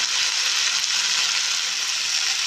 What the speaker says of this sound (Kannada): ಬೆಂಡೆಕಾಯಿನ ಚೆನ್ನಾಗಿ ಸೌಟಲ್ಲಿ ಮಿಕ್ಸ್ ಮಾಡ್ಕೊಂಡು ನೋಡಿ